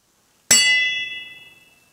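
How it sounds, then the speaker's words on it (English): A cast aluminum bell struck once, giving a sharp metallic clank that dies away within about a second and a half, a short, dull tone with little ringing sustain, heard alone. "No sustain. Kind of goes clunk."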